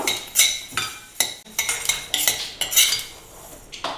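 A utensil stirs laddu ingredients roasting in a pan, making repeated close metallic scrapes and clinks in an irregular rhythm with no talking.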